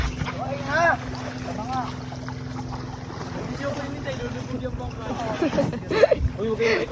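A small passenger boat, a bangka, moves on water, with a steady low engine hum and splashing beneath several people talking and calling out close by.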